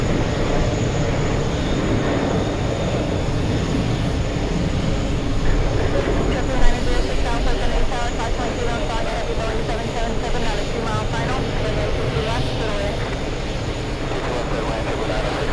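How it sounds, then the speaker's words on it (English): An Etihad Airbus A350 takes off at JFK, a broad steady jet roar filling the whole stretch at constant loudness, with a slight swell midway. "This is a takeoff over here. We have the Etihad A350."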